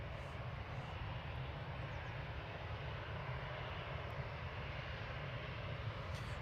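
A Lufthansa City Airbus A319 jet departs Manchester Airport, its engines a steady, continuous low roar throughout, moderately distant and unbroken.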